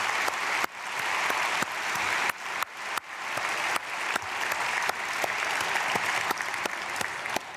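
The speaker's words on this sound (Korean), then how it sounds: "박수로 축복하겠습니다." A church congregation at a Saturday early-morning prayer service applauding, a dense, sustained burst of many hands clapping that fills the room, steady and loud from start to finish.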